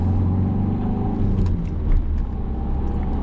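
Car pulling away from a stop at a roundabout and building speed, a loud low engine rumble heard from inside the cabin, steady and close with a slight rise.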